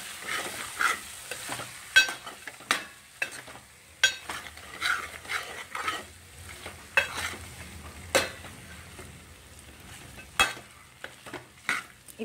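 Native country chicken curry frying in a pan, stirred with a utensil: repeated scraping and clinking strokes at an uneven rhythm over a soft, steady sizzle, close and moderately loud, with no talking.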